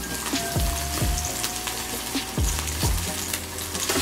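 Sliced ham fries in a pan, a constant close sizzle broken by a few sharp stirring or scraping knocks, with no talking.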